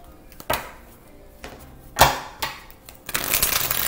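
Oracle cards are shuffled and pulled by hand, with a few soft papery slaps and flicks, then a longer riffling rustle at the end, close and quiet.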